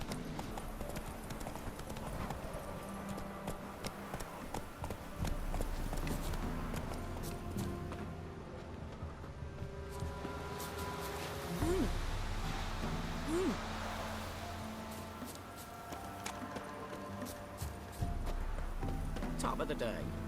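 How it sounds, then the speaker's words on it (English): Hooves of the horse in The Witcher 3 clop in a steady galloping rhythm throughout, with game music and ambience underneath and voices talking over it. "Run, Roach"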